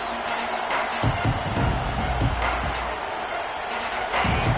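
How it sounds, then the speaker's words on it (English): Crowd noise in a Nebraska Huskers college football stadium, a broad continuous roar with swelling bursts of cheering at moderate distance, a commentator's voice faintly mixed in. "This crowd trying to show them what it's going to be like all day in this house."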